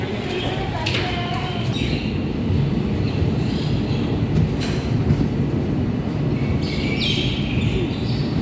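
The 14631 Dehradun to Amritsar express train runs at speed, heard from inside the coach as a loud continuous rumble with faint wheel clatter and brief higher squeals.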